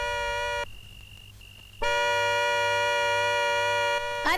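A loud car horn honks in two long blasts separated by a short gap, with a high beeping tone in between and engine hum underneath.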